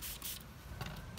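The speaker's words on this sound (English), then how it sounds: "Spray some alcohol." A couple of short, close hissing sprays of alcohol onto a motorcycle wheel in quick succession, with faint handling noise in between.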